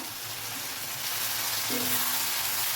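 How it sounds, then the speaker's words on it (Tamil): Onion, grated coconut and curry leaves fry in a pan for a squid curry masala, making a continuous soft sizzle that swells a little louder partway through, with no voices. "நல்லா வறுத்துக்கோங்க"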